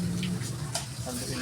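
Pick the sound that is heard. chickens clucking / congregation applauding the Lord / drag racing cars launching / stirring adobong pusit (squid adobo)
stirring adobong pusit (squid adobo)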